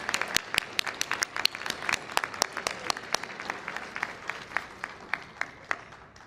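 Applause from a graduation audience welcoming a student speaker, moderate clapping made of distinct overlapping claps that gradually thins toward the end.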